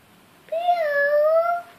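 A single drawn-out cat meow, clear and close, rising then holding steady for about a second before fading, set against a quiet background; it may be a person imitating a cat.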